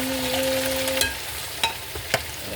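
Tomatoes tipped into a frying pan of sizzling garlic, with a steady fry hiss and a brief tonal hum at the start, then a few sharp clatters and stirring knocks close by.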